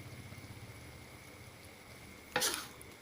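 Stir-fried squid with holy basil, sugar, seasoning powder and oyster sauce being stirred in a hot pan, a steady soft sizzle with a brief louder scrape and hiss near the end.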